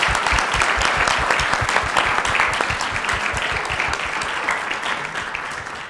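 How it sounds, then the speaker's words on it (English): A crowd at a community event honoring Dr. King gives a round of applause to poster contest finalists, with dense, sustained clapping that sounds loud and near throughout, easing slightly toward the end. "if we could just give a round of applause to all of our poster contest finalists"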